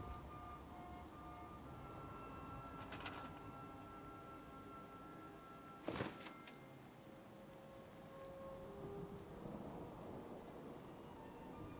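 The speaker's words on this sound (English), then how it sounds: "It seems to fucking rain every day out here." Steady rain patters throughout in the video game Fallout 4, a single sharp thunder crack bursting out midway, with faint tonal ambient music layered underneath and no talking.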